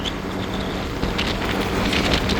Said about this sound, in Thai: นี่สังเกตพวกลมครับ ลมต้นไม้ข้างข้าง